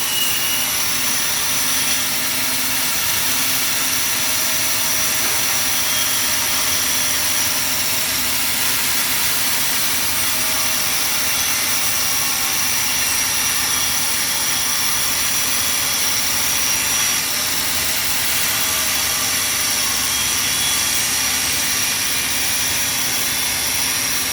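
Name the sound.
grinding out a weld on the back end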